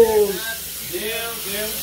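A pressure cooker cooking beans gives off a steady, airy hiss that runs through the whole moment beneath a person talking loudly nearby.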